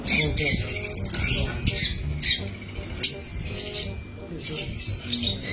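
A pet bird squawks in harsh bursts, repeated several times, close by and loud, mixed with people talking and some background chatter.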